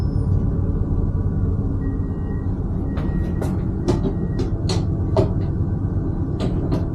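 Inside a Class 221 diesel tilting train as it runs, a steady low rumble and hum of the moving carriage fills the cabin, with several sharp clicks and knocks from the interior fittings in the second half.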